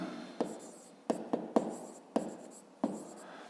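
A pen writes on paper in short scratchy strokes with small taps between them, close and soft, during a maths exercise.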